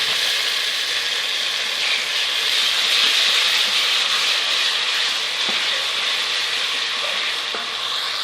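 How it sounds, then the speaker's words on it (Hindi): Crushed ginger and garlic fry with browned onion in hot oil for palak aloo, a continuous loud sizzle with faint occasional clicks. "अब इसमें ऐड करेंगे अदरक लहसुन कूटा हुआ।"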